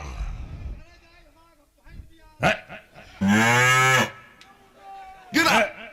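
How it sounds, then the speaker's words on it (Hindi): A buffalo lets out a few loud, drawn-out moos close by, one long call in the middle and shorter ones around it, with voices talking in between. "अभी तो तेरी भैंस भी आ रही है"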